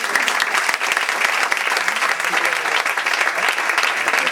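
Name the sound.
audience applause at comedy show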